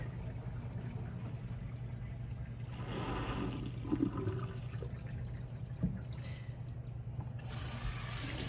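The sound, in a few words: sink draining after removing drain stoppers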